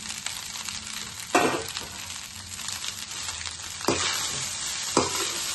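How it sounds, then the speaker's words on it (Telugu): Fried rice with egg sizzles steadily in a pan while a spoon scrapes through it in three distinct stirring strokes, close and alone without talk. "ఎగ్ వేసుకుని ఇలా కలుపుకుందాం."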